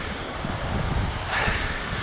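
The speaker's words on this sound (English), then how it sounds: "Pretty windy today, so I'm hoping the sound will come out" Wind buffets the microphone in a steady low rumble and rushing hiss on a hillside trail near a car park, with no voices.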